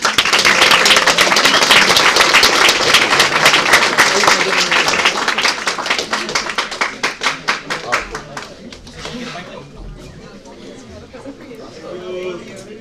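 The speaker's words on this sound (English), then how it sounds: "If we can please give him a round of applause." An audience claps in sustained applause after a health career speaker series talk, dense and loud at first, then thinning into scattered individual claps that fade out.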